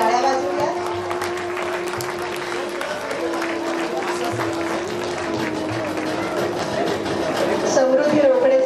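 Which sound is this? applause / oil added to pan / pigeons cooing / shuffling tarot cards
applause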